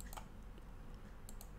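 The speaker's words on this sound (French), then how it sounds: "Et là, je fais supprimer aussi de mon clavier." Faint keyboard key presses on a computer, a few quiet clicks scattered at the start and near the end over a low room hum, no voices.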